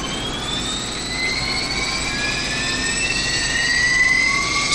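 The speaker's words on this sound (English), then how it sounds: "Start master, select left ground, starter engage," A PMDG Jetstream 41 turboprop engine spooling up during start in a flight simulator, a steady roar with rising whine tones climbing over several seconds, loud and continuous with no talk.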